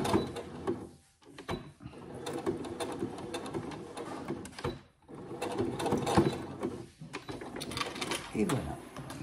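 Sewing machine stitching a fabric shoulder pad for a seat belt, short bursts of quiet mechanical chatter separated by brief pauses as the fabric is turned.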